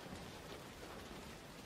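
Steady rain pours in an animated film, a dense, even hiss of falling drops filling the scene without pause, fairly close, with no voices over it.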